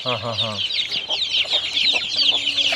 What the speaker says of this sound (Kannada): ಅದೇ ಪ್ಯೂರ್ ನಾಟಿ ಕೋಳಿ